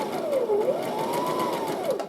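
A sewing machine stitches around white fabric, a steady continuous motor whir with a gently wavering pitch, close and alone.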